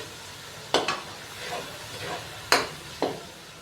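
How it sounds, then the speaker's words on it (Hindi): Whole spices, star anise and cloves, fry lightly in oil with a soft background sizzle, punctuated by a few sharp utensil scrapes in pairs, close by and with no one speaking. "खड़े मसालों को भी हल्का सा फ्राई कर लेंगे"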